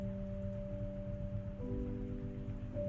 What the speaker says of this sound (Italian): La pioggia accompagna il suo passo, scivolando sul tetto e contro i vetri